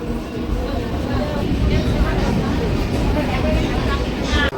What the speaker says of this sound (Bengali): ট্রেন ছাড়লো আটটা একে বগুলা থেকে